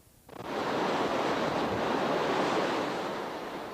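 Heavy storm surf from Post Tropical Storm Gabrielle, 2001, roars in a broad, continuous wash of crashing water on the shore, loud and close, with wind noise mixed in.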